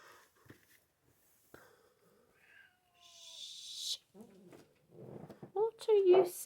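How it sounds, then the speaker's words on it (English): A cat lets out a loud, drawn-out meow near the end, following scattered rustling and a hiss, with a person speaking nearby. "you may hear her on the video with that meow, which is quite a very loud meow"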